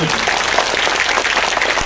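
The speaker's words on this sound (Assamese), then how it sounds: "ভাল যদি হৈছে ডক্টৰ হিমন্ত বিশ্ব শৰ্মা ডাঙৰীয়াক ধন্যবাদ জনাই এটা হাত চাপৰি দিয়ক দীঘলীয়া" An audience at a public gathering in Assam gives steady, dense clapping that fills the short stretch at an even level, with a few voices faint underneath.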